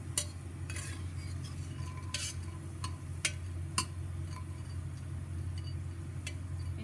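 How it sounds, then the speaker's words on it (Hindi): Amritsari vadi fry in hot oil over medium heat, giving a faint, steady low bubbling hiss broken by scattered light ticks and utensil clinks, no voices. "मीडियम आंच पर तलें और लाल होने तक तलें।"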